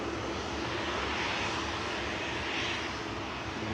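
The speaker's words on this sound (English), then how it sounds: "We've got the mostly green Aer Lingus prop joining us." A mostly green Aer Lingus propeller aircraft at Manchester Airport, producing a steady, full engine drone that stays level throughout with no speech.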